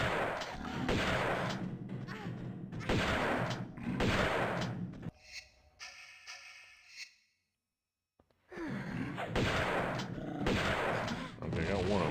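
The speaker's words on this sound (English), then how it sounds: "Let's try the shotgun." Shotgun fire in the video game Tomb Raider Remastered II, heavy blasts repeating at a steady rhythm, loud and close, broken by a quiet stretch with a brief tonal sound before the shots resume; a faint sigh is also heard.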